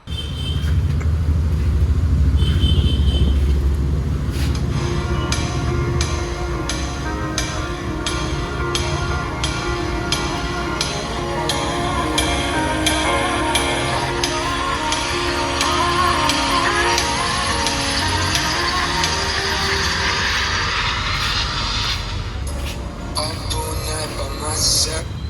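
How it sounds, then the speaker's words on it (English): Music with a steady low-end beat and a broad mix plays for about 25 seconds from a OnePlus Nord 2 5G phone's built-in speaker, continuous and fairly loud, with no talking over it. "let me give you a sample of the sound coming from the OnePlus 2 Nord 2 5G."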